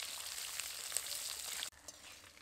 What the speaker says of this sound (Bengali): মাছগুলোকে উল্টে পাল্টে নিয়ে ভালো করে ভাজবো।